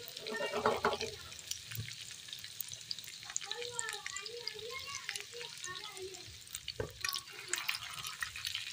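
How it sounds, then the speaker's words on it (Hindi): Chapli kebabs frying in oil in a pan that is shaken now and then, giving a steady close sizzle with scraping and sliding noises over about nine seconds. "इस तरह से हम पैन को हिलाकर देख लेंगे, अगर हमारे कबाब हिल रहे हैं तो हम इन्हें पलट लेंगे।"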